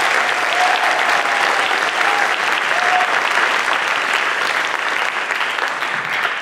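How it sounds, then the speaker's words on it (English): Sustained applause from a large audience at a high school pops concert, dense steady clapping filling the hall at a strong, even level for several seconds. "Can we give them another big round of applause"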